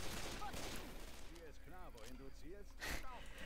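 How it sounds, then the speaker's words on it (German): Gunfire from shooting zombies in the co-op game Left 4 Dead 2, bursts of shots mixed with game sounds while players talk over it. "Weißt du, ich schieß auf den Zombie."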